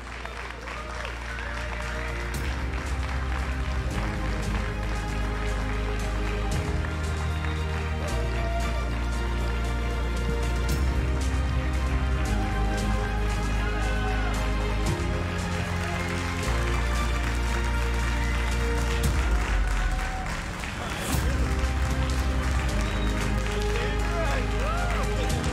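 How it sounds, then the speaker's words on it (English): Sustained applause from a live audience fills the hall as the 2019 Pro Chess League champions receive their medals, steady clapping and crowd noise under music and an announcer's voice. "Let's give them one more round of applause here."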